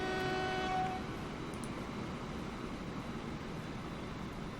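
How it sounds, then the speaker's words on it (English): A train arrives at a station in the video game Transport Fever, opening with a short tonal horn blast that fades into a steady, quiet rolling rumble. "There's the next train coming in already"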